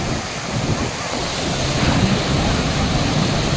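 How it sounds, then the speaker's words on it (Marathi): Sea waves wash onto the beach at Pattaya in a continuous, fairly loud surf roar mixed with wind buffeting the microphone. "सुंदर किनारा आहे"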